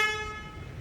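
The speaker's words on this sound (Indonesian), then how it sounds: "Bunyi klakson," A Hyundai Kona Electric car horn gives a single short, bright toot up close, fading quickly within a second.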